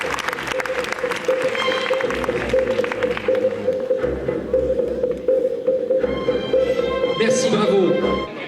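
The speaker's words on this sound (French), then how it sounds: "Photo officielle, sous vos applaudissements." An audience claps steadily at a prize ceremony for L'Outil En Main de Parthenay as the official photo is taken, a sustained dense patter of many hands lasting several seconds, with voices over it.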